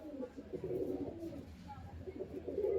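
A pigeon cooing softly in low, throaty rolling pulses while being held close in the hand, quiet and near, with little else around.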